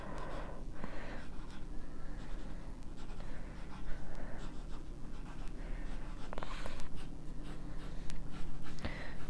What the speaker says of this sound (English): I'm kind of just drawing out kind of that idea of the Big Ben clock